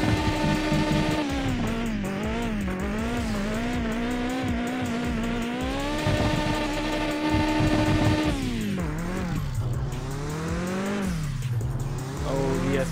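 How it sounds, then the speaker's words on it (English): A car drifting in Mon Bazou, driven with a Logitech G27 wheel, engine revving hard and swooping up and down in pitch with tire squeal, loud and continuous, while someone talks over it. "Let's do like some freestyle drifting."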